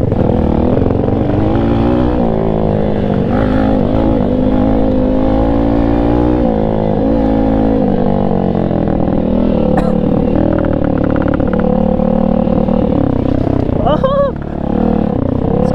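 Cheap Chinese Apollo or Tao Tao dirt bike ridden along a trail, its small engine buzzing and revving continuously up close with rattling clatter, rising and falling with the throttle.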